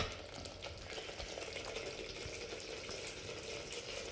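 Curry leaves go into a simmering Kerala ginger curry sweetened with jaggery, set off a steady, dense sizzling hiss that holds evenly throughout, with no voices.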